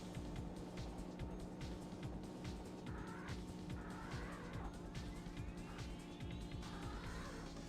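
A constant, buzzy engine drone from a car in the 1996 PS1 game The Need for Speed, loud and unbroken, with rising whines as it revs.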